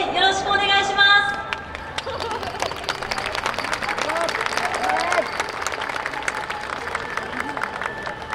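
An audience applauds at a yosakoi-style dance team performance, dense clapping rising after a short burst of music, with crowd chatter and voices mixed in throughout.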